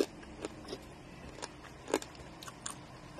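Crunchy food being chewed close up, with a handful of crisp, irregular bites and crunches over a quiet background.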